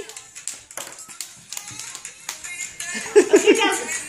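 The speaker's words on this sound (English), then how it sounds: "Clap, Abby." A small child claps hands in a few light, uneven taps, mixed with voices and a bit of giggling nearby.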